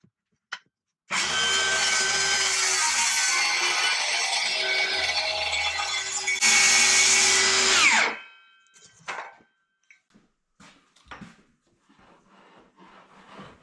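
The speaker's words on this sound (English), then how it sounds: "this would be a great opportunity to use the hand planer" A loud, continuous whirring and rasping of a power hand planer shaving a wooden countertop for about seven seconds, then stopping, followed by faint clicks and handling noises.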